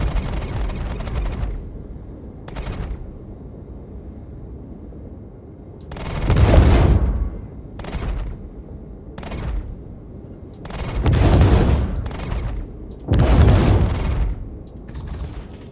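Size 5 cannons on an RSI Meteor ship in a video game fire in several loud, heavy bursts of rapid shots, separated by short gaps of quieter mechanical hum.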